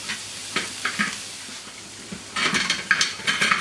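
Hand-cut steak tartare patties fry in a pan, a spatula scraping them loose from the bottom in a few short strokes, then a louder, steady sizzle with clinking metal.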